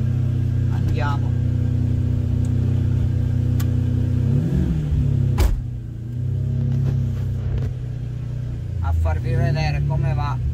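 A Ferrari 550 Maranello idles with a deep, loud rumble and is blipped into several throaty revs that rise and fall, while someone talks over it outside the showroom.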